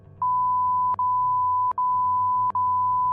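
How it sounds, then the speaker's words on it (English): A radio sound effect meant to be a turtle humping a shoe: a steady electronic tone broken by three short, evenly spaced dips, clean and alone with a low hum beneath. "That's what a turtle sounds like when it humps a shoe"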